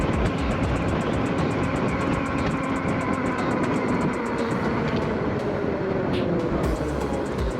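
A Spark Brut electric motorcycle pulls away on full throttle, a loud, continuous whine and rushing wind roar that holds steady throughout, close up and with no talking.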